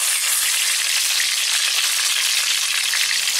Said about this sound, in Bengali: এবার দিচ্ছি গোটা জিরে